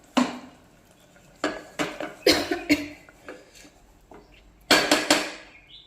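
Mixer jar being washed, with dishes clattering in irregular bursts. Sharp clanks and knocks come in clusters, a few close together near the middle and a louder run toward the end, with quiet gaps between.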